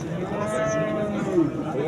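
Cow at a livestock market in Sirdaryo district mooing once in a long, drawn-out low call, close by, with faint crowd chatter underneath.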